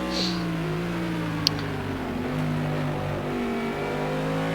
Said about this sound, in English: You can hear the engine of Mad popping up behind them as well.